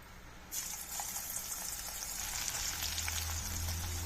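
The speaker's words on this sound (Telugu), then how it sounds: "కలిపి పెట్టుకున్న కాకర ముక్కలని నేను ఆయిల్లో వేస్తున్నాను" Bitter gourd pieces drop into hot oil in a kadai and burst into a loud, continuous frying hiss that holds steady to the end, alone and close.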